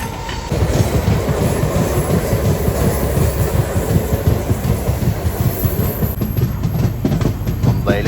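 A local train rumbles steadily along the rails, a loud continuous roar with rhythmic clatter and occasional wheel squeal.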